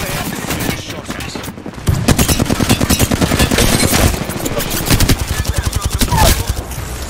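Bursts of automatic weapon fire in a ranked Apex Legends match, loud and close, with a quieter opening before a long rapid rattling volley and further rhythmic bursts, brief voice activity underneath.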